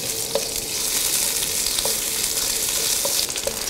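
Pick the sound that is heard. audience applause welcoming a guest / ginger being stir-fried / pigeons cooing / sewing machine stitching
ginger being stir-fried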